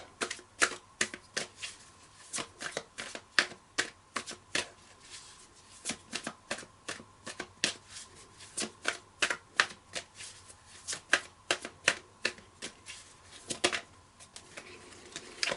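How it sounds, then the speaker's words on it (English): Tarot cards are handled and drawn from a deck in a quiet room, a run of crisp repeated card snaps and riffles in an uneven rhythm, close and soft, with no talking. "I'm just going to pull one more card for this one, please."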